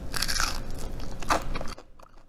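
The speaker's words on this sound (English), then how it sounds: "Hear that crunch?" Teeth bite into crunchy air-fried zucchini chips coated with Parmesan, giving a quick series of loud, close crackling crunches that stop abruptly into near silence.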